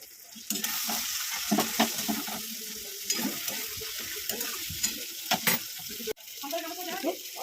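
A spice paste of ginger paste, chilli powder and cumin powder sautés in oil with a moderate sizzle. Irregular spoon scrapes and clicks from stirring run through it, with one sharp knock near the end.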